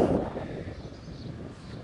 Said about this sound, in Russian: дует холодный такой ветер